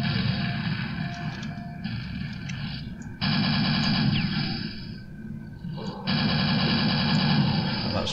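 Gunfire in the game Quake on Nightmare difficulty: rapid, continuous machine-gun-like bursts in several long stretches, loud and buzzing, with brief pauses between volleys.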